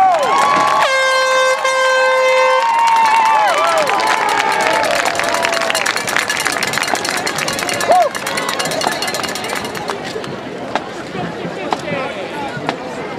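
Air horns blare in a stadium crowd at a Medina marching band field competition in Webster, New York: a loud, sustained blast near the start gives way to a dense roar of crowd noise.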